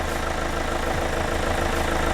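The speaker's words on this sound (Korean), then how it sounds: "엔진 소리 일정하네요." Kia All New Carnival nine-seat minivan engine idles with the hood open, a steady, even low rumble with regular pulsing, close and uninterrupted.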